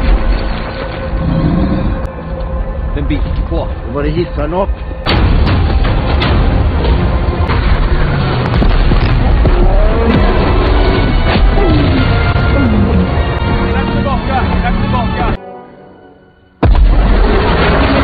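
Film battle scene of military forces firing rockets and ammunition at a rock-hard troll: a dense, loud, continuous wall of blasts, crashes and booming explosions with a brief drop near the end before the roar returns.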